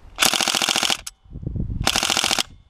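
Two full-auto bursts from a Tokyo Marui Recoil Shock M4 airsoft rifle, each a rapid, loud, evenly spaced rattle of shots lasting under a second, separated by a brief mechanical pause, close and alone.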